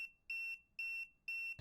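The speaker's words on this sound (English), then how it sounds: "Your sensor will beep until the leak has been fixed." A LeakSmart water leak sensor sounds a high electronic beep three times in a steady rhythm, each tone about a quarter second long with short gaps between.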